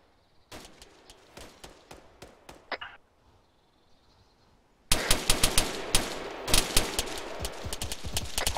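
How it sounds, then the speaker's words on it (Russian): Bursts of automatic rifle fire from the player's own weapon in Arma 3, rapid sharp cracks in short strings, a quieter volley first and then a much louder, dense string of close shots. "Это я стреляю."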